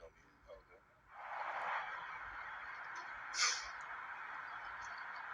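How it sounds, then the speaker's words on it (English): Two birds flying over give a loud honking call, rising from a faint background into a sustained burst with one sharper honk, fairly close, with no talk over it. "We just had two birds fly over at us."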